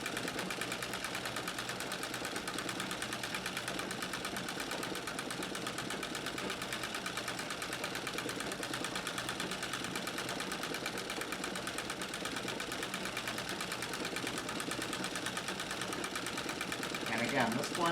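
A White Rotary treadle sewing machine runs steadily through free-motion quilting, a continuous fast mechanical stitching whir with even rhythm throughout, close and moderately loud with no break.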